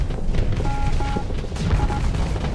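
Heavy weapons fire from battleships and a cruiser fleet in the space game Starsector, a dense rapid barrage of booming impacts and shots, loud and continuous with electronic tones mixed in.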